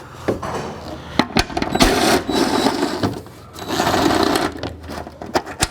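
A power tool works bolts loose from the smashed rear end of a 2005 Acura NSX in loud, close bursts of whirring and rattling, separated by sharp clanks and pauses.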